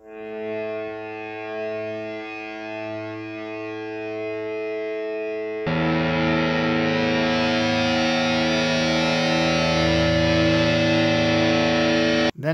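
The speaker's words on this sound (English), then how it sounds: "I used my guitar and played around with a distortion knob and got this." Electric guitar pushed through a distortion knob, giving a sustained, droning buzz of stacked harmonics that holds steadily, then swells brighter and louder about halfway through before cutting off abruptly.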